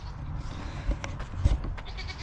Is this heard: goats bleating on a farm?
yes